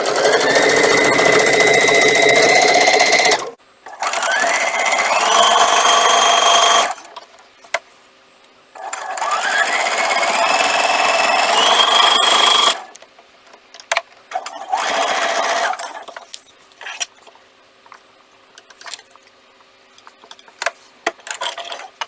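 A sewing machine stitches back and forth on a mug rug made with applique and foundation paper piecing, running in loud bursts of about three seconds separated by brief pauses, then trailing off into scattered faint handling clicks.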